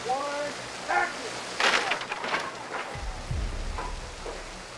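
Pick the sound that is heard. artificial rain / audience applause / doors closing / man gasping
artificial rain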